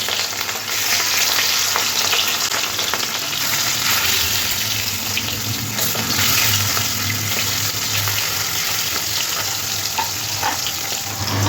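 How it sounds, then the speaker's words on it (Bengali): Marinated rohu fish pieces sizzle loudly in hot oil, a steady crackling fry that holds at close range throughout with occasional sharper spits and pops. "তেলটা গরম হয়ে আসলে ম্যারিনেট করা মাছগুলো তেলের মধ্যে দিয়ে এপিটোপিট করে একটু হালকা লাল লাল করে ভেজে দিতে হবে"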